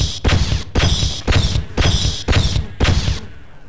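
Repeated smashing blows on a breakable object in Half-Life, six sharp loud impacts in an even rhythm, each with a crunching crack and short rattle, close up and without talk.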